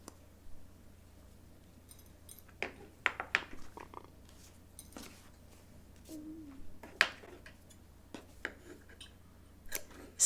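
Scissors snipping through a paper sloper pattern, cutting along dart tops and notches: a run of sharp, separate clicks and snips spaced irregularly, close and fairly quiet over a low steady hum, with no talking.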